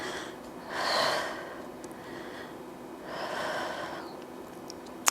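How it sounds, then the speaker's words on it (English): Two slow, breathy exhales during a glute exercise, one near the start and another a couple of seconds later, close and soft against a quiet room with no talking. "Breathe it out."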